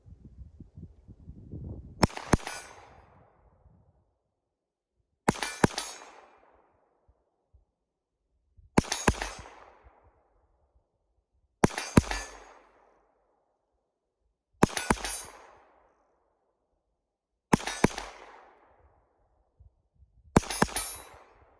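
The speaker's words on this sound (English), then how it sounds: "I'm gonna go ahead and do some more double taps with this third mag" A Glock pistol fitted with a Timney Alpha trigger fires seven loud, sharp double-tap pairs outdoors, each pair a quick crack-crack followed by about three seconds of quiet before the next.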